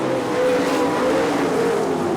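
Race cars circle the track at Road America in a PDTR event, a loud steady engine drone with a rising and falling whine from several nearby cars.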